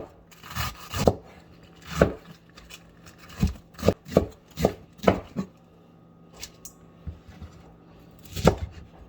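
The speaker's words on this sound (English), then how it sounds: "Go ahead and shred your lettuce, thin slices." Lettuce being shredded into thin slices with a knife on a cutting board while making red pork pozole: a run of sharp, close chopping strokes in bursts, some quick pairs and some spaced apart, with no talking.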